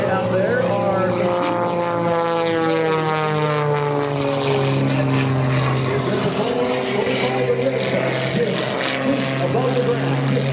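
Aerobatic propeller airplane flying low over the runway at the Wings Over South Texas air show in Corpus Christi, a loud, continuous droning engine roar with shifting pitch, and an announcer speaking over it.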